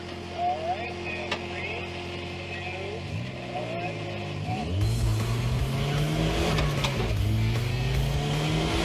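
A race car circles a track, its engine droning and revving with rising pitch sweeps as it accelerates and changes gear, growing louder midway, with voices talking over it.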